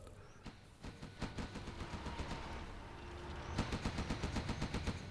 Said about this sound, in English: It's warming up his Gatling cannon here